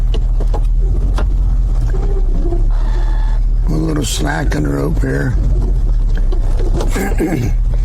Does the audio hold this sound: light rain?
no